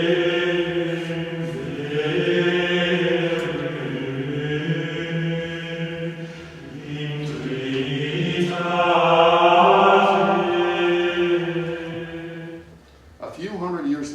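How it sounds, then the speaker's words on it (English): Early Western polyphony: several voices sing sustained, interweaving lines together in a steady, resonant texture that swells and fades slowly over about fourteen seconds before breaking off. "Here's an example of early Western polyphony."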